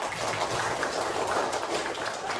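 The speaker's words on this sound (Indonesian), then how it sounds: "Tepuk tangan dulu semuanya" A crowd of schoolchildren clapping together in a classroom, a dense, steady patter of applause that holds evenly throughout.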